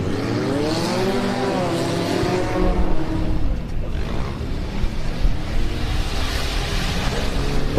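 Youth autocross race cars roar off the start at a demo derby, several engines revving and accelerating together in a loud, continuous snarl with rising and falling pitch, close by.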